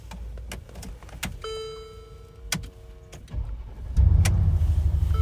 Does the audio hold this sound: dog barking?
no